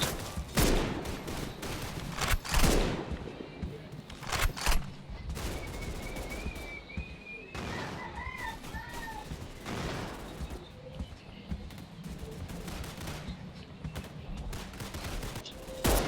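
Repeated bursts of gunfire from a custom-built gun in a Roblox online game, loud and sustained over many seconds in clustered volleys, with a few high electronic tones and a voice chatting in between.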